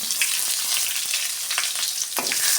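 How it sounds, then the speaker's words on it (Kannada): Sliced onion frying in a hot pan, a loud continuous crackling sizzle heard up close, with occasional scrapes and clicks of stirring scattered through it and no voices. "ಈರುಳ್ಳಿನ ಚೆನ್ನಾಗಿ ಫ್ರೈ ಮಾಡ್ಕೊಬೇಕು ನೋಡಿ"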